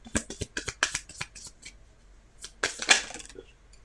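Oracle cards are shuffled and handled close by, making bursts of crisp riffling snaps and taps, then a short pause and another round of card flicks.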